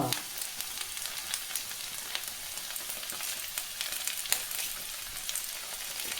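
A whole sprig of curry leaves sizzles and crackles in a hot pan of okra, a steady dense frying hiss with sharp pops throughout; no one talks.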